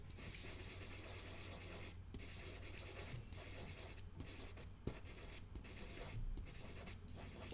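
A Conte pastel pencil rubs pigment into paper in steady, soft scratching strokes with brief pauses, heard close and quiet.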